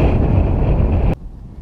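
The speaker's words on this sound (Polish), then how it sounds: "Co to za wiatry nieprzyjemne, mroźne, atakujące dłonie." Loud, steady, freezing cold wind buffeting the microphone with a dull roar near a riverside palace hotel, cutting off abruptly near the end.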